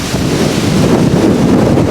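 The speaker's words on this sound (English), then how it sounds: "And you guys hear that wind?" Strong wind roars steadily across an open microphone, a constant low rumble and buffeting with faint surf-like wash underneath, no voices.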